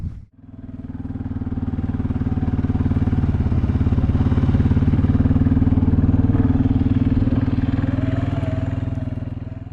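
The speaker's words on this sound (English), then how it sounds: "Probably gonna take the four-wheeler out a little bit" A four-wheeler ATV engine idles and revs nearby, a steady mid-pitched rumble with a rattling, clattering edge that holds for nearly ten seconds without talk.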